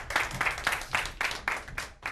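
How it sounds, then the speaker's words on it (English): A school audience claps for a group of boys in rhythmic bursts of applause, fairly close and lively, rising and falling in waves over about two seconds. "Give them a round of applause again."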